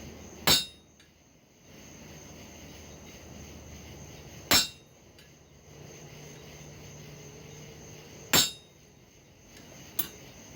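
A hammer drives a chisel into hot copper and steel, three sharp, ringing metallic strikes evenly spaced several seconds apart plus a lighter tap at the end, over a quiet steady hum.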